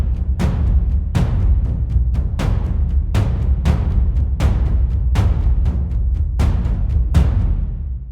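A looping drum groove with sharp, evenly spaced hits, some struck harder than others so the accents shift, loud and alone.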